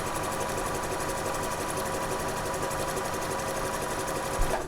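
A sewing machine runs steadily while stitching a princess seam in fabric, an even, continuous mechanical whir with no speech.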